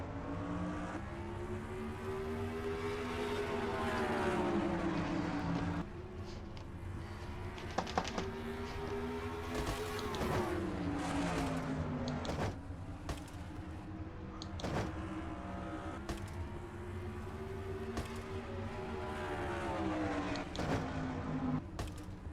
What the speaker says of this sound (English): Looking for a green flag and they get it. We're racing at Bristol.